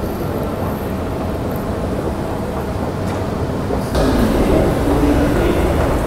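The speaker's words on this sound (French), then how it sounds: "j'attends mon petit RER" RER commuter train at a Paris station, heard as a steady broadband rumble of rolling stock and platform ambience that grows louder partway through as the train draws nearer.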